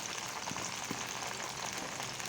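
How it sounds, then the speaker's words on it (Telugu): Eggplant pieces fry in hot oil in a pan, giving a steady, dense sizzle that stays even and close throughout without any pauses. "నూనె బాండీలో వంకాయ ముక్కలు వేసుకోవాలండి"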